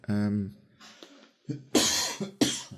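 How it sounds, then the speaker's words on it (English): A person coughs twice in quick, harsh bursts at close range, right after a brief vocal sound and some faint noise. "sorry about that, me coughing."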